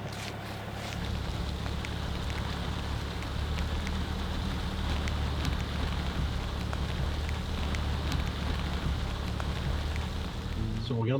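Steady rain falls in a wooded area at a fishing outfitter, a continuous dense patter of drops that stays loud and even throughout with no voices.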